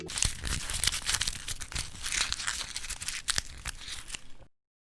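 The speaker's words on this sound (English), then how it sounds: "Let's start with peeling our onions and peeling the garlic." Dry papery skins crackle and tear as shallots and garlic are peeled by hand in a kitchen, a close, busy run of crinkles and snaps that stops abruptly near the end.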